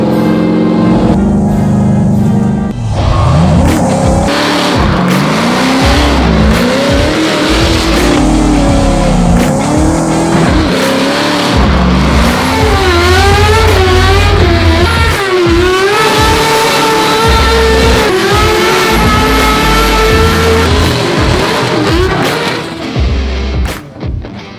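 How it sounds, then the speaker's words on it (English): A Formula Drift car drifts hard, its engine revving and wailing up and down through repeated throttle bursts while the tires squeal and shred, loud and close, continuous for the full stretch with no talk. "We're gonna go out there and shred some tires."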